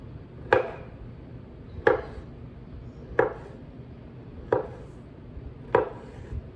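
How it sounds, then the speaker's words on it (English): A knife cutting through an avocado on a board: five sharp, evenly spaced chopping knocks about a second and a half apart, close and clear with no talk over them. "I'm going to do the avocado just like I did the egg, except for I'm going to then cut it in half"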